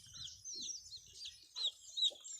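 Chickens on a farm cluck and chirp softly at a little distance, with short irregular calls and a couple of sharper, louder clucks near the end.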